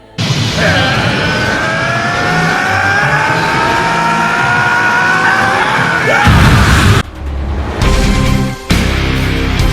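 An animated character named Zamon screams while transforming into a Super Saiyan, a long, loud, strained yell with a wavering pitch, followed by sudden bursts of powering-up noise and impacts.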